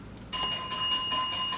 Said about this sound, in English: Oh, and there's the bell, guys.